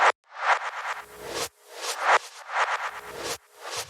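Repeating techno percussion pattern of noisy, clap-like hits and short bursts, looping in a steady rhythm, dry and upfront with no voices.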